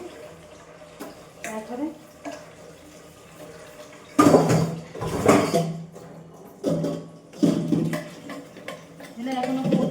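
Dishes are washed under running tap water in bursts of splashing and rinsing, with clinks of utensils, while someone talks intermittently.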